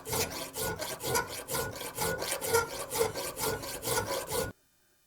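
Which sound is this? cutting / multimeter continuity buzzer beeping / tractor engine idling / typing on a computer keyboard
cutting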